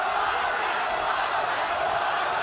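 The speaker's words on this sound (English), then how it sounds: "Listen to the crowd." A large crowd at a kickboxing fight roars loudly and without a break, making a dense wash of cheering and shouting with a few sharper peaks.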